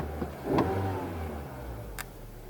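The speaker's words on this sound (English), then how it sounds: "let's hear how this Civic sounds" 2017 Honda Civic EX-L hatchback engine running, a low steady idle hum heard up close with a brief rev, plus a couple of faint clicks and knocks in the cabin.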